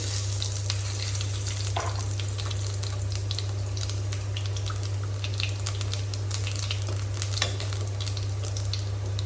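Whole cumin seeds sizzle steadily in hot oil in a wok, a constant crackling fry with a low steady hum underneath and no voices.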